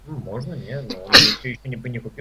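A single loud, sharp sneeze bursts out in the middle of casual talk among several people during a game broadcast, the speech carrying on around it.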